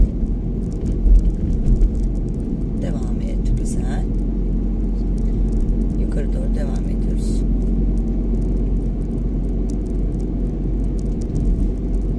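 A steady engine rumble and road noise fill a car's interior on a first driving lesson in heavy city traffic, continuous for several seconds while people talk quietly inside.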